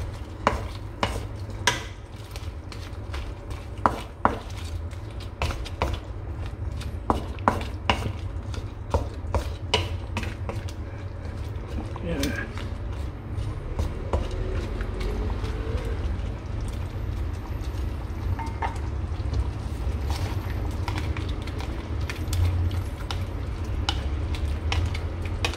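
A spoon scrapes and knocks against a pot of shrimp stew with ground peanut, a steady run of irregular clinks and taps over a low simmering hiss, continuing for about twenty-five seconds.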